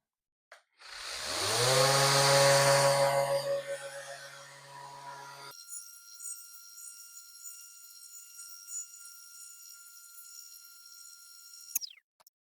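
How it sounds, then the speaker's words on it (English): A power sander works a wooden basket weave cutting board, starting with a loud rising motor whine and broadband grinding for several seconds, then settling into a steadier high-pitched hum that stops abruptly near the end. "And now, sanding."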